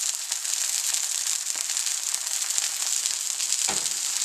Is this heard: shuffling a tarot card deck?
no